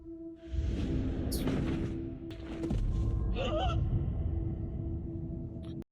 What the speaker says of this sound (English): That acting moment of her gasping was wild.